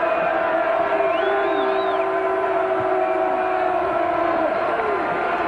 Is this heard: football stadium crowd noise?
yes